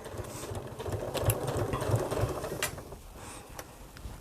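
A home sewing machine stitches curved seams on a fabric bag, its motor whirring in a steady close run that slows and pauses as the stitch length changes.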